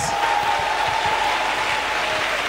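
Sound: church congregation applauding for Jesus Christ

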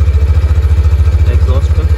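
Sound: Hero Xtreme 160R motorcycle exhaust idling

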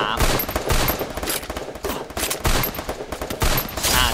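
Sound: gunfire in the video game Garena Free Fire

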